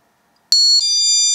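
After a moment of silence, a GE security alarm's door chime starts abruptly: a loud, piercing electronic tone holding steady and high with a brief flicker.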